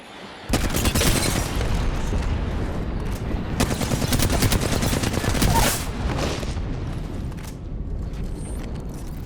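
Gunfire and a grenade explosion in an Apex Legends match: a heavy blast and bursts of rapid shots ring out, with dense crackling volleys rising and falling over several seconds.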